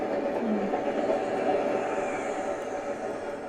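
A train runs steadily in an anime scene, a continuous broadband rumble and rush of the moving cars filling the whole stretch, with faint voices underneath.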